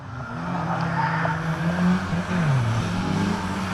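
Race cars at an oval raceway, a blue Vauxhall Corsa leading, move off on the rolling lap with loud, steady engine drone and rising and falling revs, close and continuous with no speech.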